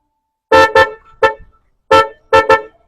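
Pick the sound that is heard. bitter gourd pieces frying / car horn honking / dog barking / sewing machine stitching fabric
car horn honking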